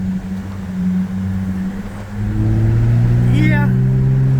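A Ford Raptor pickup's engine rumbles and revs up with its active exhaust in sport mode, a loud steady drone that rises in pitch midway, heard from inside the cab.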